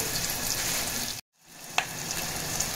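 Onion and curry leaves fry in a pan for a Telugu raw mango rasagaya, giving a steady close sizzle that cuts out briefly near the middle and returns, with one sharp tap partway through; no one talks.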